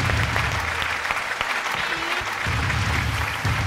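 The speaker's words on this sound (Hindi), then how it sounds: "बहुत सारी तालियां सिंथिया के लिए" Dense, steady studio audience applause on a Pakistani television game show, a continuous wash of clapping that holds at an even loudness throughout with a voice faintly underneath.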